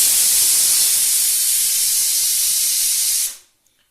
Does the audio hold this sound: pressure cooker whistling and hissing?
yes